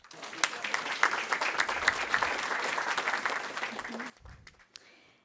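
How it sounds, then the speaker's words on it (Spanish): Conference audience at a healthy-eating panel in Peru gives loud sustained applause for about four seconds, then fades to quiet with a few scattered claps. "Le recibimos con un fuerte aplauso,"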